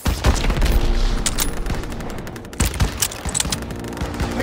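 Dense, loud Call of Duty: WWII battle gunfire, with rapid overlapping bursts and booms sustained throughout.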